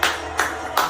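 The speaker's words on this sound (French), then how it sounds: "il se filme tout seul en train d'applaudir" A lone man claps by himself in his living room, with three slow, evenly spaced claps that sound close and fairly loud against a quiet room.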